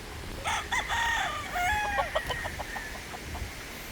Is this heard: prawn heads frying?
no